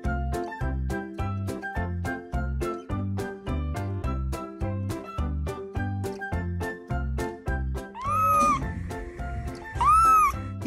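A Munchkin cat meows twice near the end, bright rising cries standing out over a steady, looping backing music track that plays throughout.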